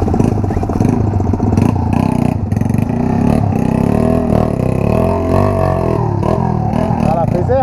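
A dirt bike motorcycle accelerating on a rough trail, its engine loud and close with rising and falling revs and some clattering, while people talk over it throughout.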